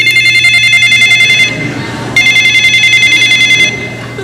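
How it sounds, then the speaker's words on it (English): A tiny desk telephone rings in two loud, close electronic trilling bursts separated by a short pause, with nothing else heard. "Let's ring his phone."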